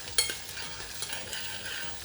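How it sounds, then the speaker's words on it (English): Shrimp sautéing in a pan for Korean-style shrimp congee, a quiet, even sizzle with a light tap of a utensil near the start and no talking. "And then saute shrimp."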